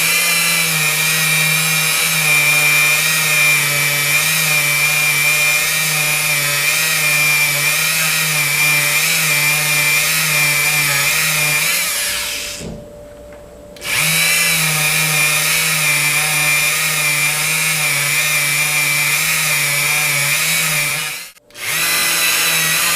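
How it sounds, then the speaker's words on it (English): A Dremel rotary tool whines steadily while polishing an old knife blade with Brasso, a loud continuous buzz that cuts out briefly twice, once for about a second and again for a brief moment near the end. "Using a Dremel tool again with Brasso."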